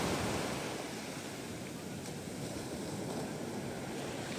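Sea waves wash in on a calm shore, heard as a continuous soft rush of surf mixed with some wind noise on the microphone.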